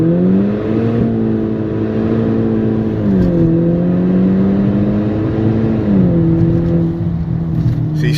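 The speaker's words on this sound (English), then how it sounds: "Let me try launch control now." VW GTI with a muffler delete, turbo muffler delete and upgraded discharge pipes makes a launch-control start, its engine droning loud and steady with pitch rising, falling and rising again through gear changes, heard close from inside the car.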